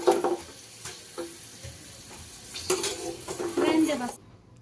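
Masoor dal frying in oil in a pan for homemade namkeen, with soft sizzling, stirring scrapes and utensil clinks against the pan, close and moderately loud.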